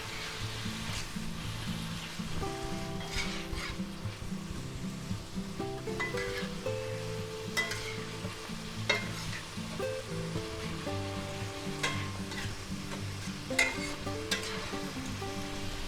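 Chicken stir fry with green and red peppers and snap peas sizzles steadily in a pan while it is mixed, with a continuous hiss and scattered scraping under light background music.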